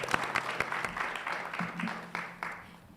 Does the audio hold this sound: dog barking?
no